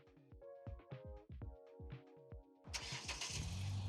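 A Kia Forte YD (2014–2016) is started by a MyKey remote start system. A quick rhythmic cranking of the starter runs for about two and a half seconds, then the engine catches and settles into a steady, fairly loud idle. No one speaks.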